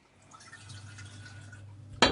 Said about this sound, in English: so I'm just rinsing it